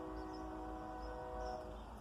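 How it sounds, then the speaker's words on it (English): A train passing near an outdoor riverside camp, heard as a faint, distant rumble with a sustained tonal horn-like drone over the short stretch. "Comes a train, guys."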